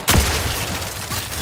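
A single gunshot from a weapon in the video game Outer Worlds 2, heard as one sharp, loud blast at the start, followed by a lingering rumbling tail and steady game ambience.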